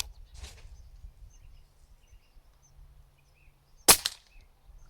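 A single sharp, muffled air rifle shot through a moderator rings out near the four-second mark, preceded by a softer pop, with quiet outdoor background between them.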